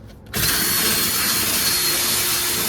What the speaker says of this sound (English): Let's grab the grinder here.